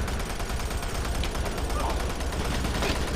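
Rapid gunfire from weapons in the video game Doom 3 BFG, with dense, continuous shots filling the clip at steady loudness.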